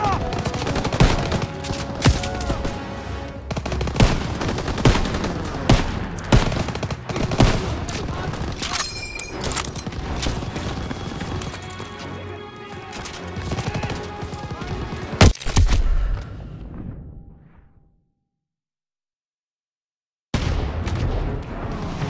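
Sustained machine gun fire from MG nests at a barn in Call of Duty WW2, dense rapid bursts mixed with other gunshots and battle noise, loud and continuous before cutting to sudden silence, with shouted voices in places.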